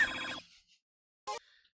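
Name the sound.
phone call ringing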